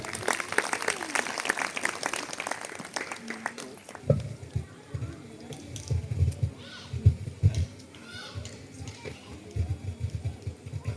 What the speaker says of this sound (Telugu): అందరూ కూడా సంతోషంగా చప్పట్లు కొడదాం